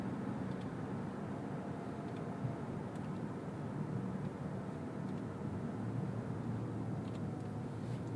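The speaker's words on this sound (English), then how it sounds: "Now going into sport mode, it's going to hold a higher gear." A 2024 Mazda CX-90 SUV in sport mode, heard from inside the cabin as a steady, continuous low engine and road drone at moderate level throughout, with no speech over it.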